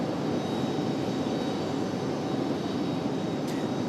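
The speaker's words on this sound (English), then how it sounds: "our next one, an A319. The Republic Airways off to Nashville, Tennessee" A Republic Airways Airbus A319 departs Raleigh-Durham airport for Nashville, its jet engines a loud, continuous broadband roar with no talking, steady throughout with a faint high tone near the end.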